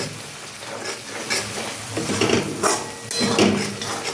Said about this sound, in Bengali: জিরে আর ধনের পাউডার হাফ চামচ করে দুটো মিলে এক চামচ আমি এখানে দিয়ে দিলাম দিয়ে আবারও এটা আমি মিক্স করে নেব ভালো করে